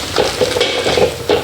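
Many eggs frying in a pan of hot oil, with a steady sizzle and the scrape of stirring, close by and loud, with no talking.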